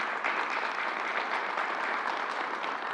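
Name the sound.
audience applause at a press briefing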